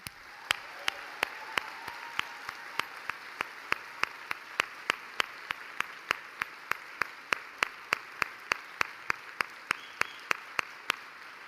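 Steady applause from an audience at a Vice President Kamala Harris event in Wisconsin, with sharp individual claps standing out at a regular pace over a continuous wash of clapping.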